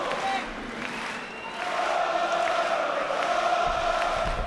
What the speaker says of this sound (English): Oh, the crowd's getting warmed up